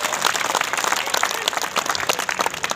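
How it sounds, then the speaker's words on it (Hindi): Dense, loud applause from a large crowd at a farmers' rally in Haryana, steady and sustained for a few seconds with no voices on top. "मैं सभी साथियों से निवेदन करूंगा कि एक बार जोरदार तालियां बजा करके हमारे नेताओं का स्वागत किया जाए।"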